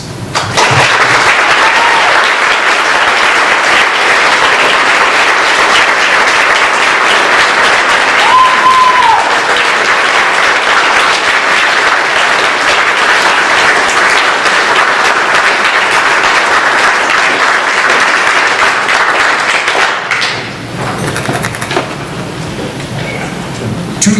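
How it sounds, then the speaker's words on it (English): An audience applauds invited guests and policemen at a law enforcement talk, with loud sustained clapping filling the hall for about twenty seconds before tapering off near the end. "I want to begin our program with a round of applause for our invited guests and any policemen in the audience."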